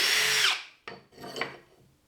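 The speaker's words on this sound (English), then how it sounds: "place your small piece of wood over it and drill right through without having to drill into your bench" Power drill boring through a small piece of wood laid over a bench, one loud continuous whirring burst that cuts off, then a pause and a couple of short, rougher grinding bursts up close.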